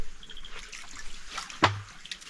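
Water trickles down in a forest, a soft, uneven dribble broken midway by a sudden nearby thump.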